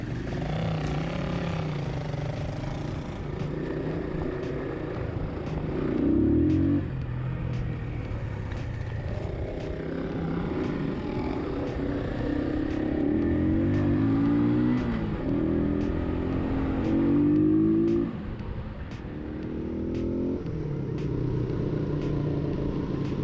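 A rebuilt Keeway CR152 motorcycle runs with a steady engine drone and several rising revs as it rides off, moderately close and with no talk over it.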